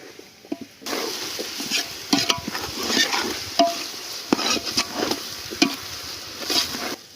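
Green onion, dry onion and green chilies hitting a pan and frying, a sudden sizzle that continues under repeated scraping and stirring clatter from a spoon against the pan.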